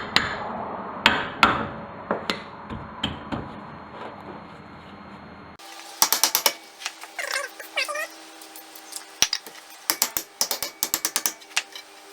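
Repeated hard metal whacks knocking a stuck rear brake rotor off a Nissan 240SX during a drilled and slotted rotor upgrade, sharp clanging strikes in uneven bursts, close and loud, with scraping metal between hits.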